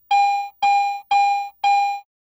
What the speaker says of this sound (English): When operating in standard mode, non-ferrous items with medium to high conductivity produce a bell tone.